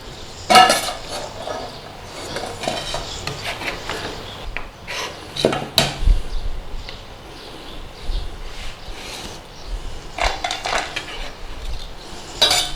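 An onion handled and set into a tub during kitchen prep: scattered hard clunks, knocks and rasping scrapes, close by and irregular, with quieter gaps between the bursts and no voices.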